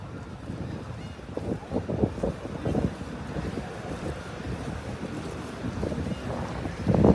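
A roaring sea churns near the shore with a continuous low rumble of surf and wind buffeting the microphone, swelling at times, with no one talking.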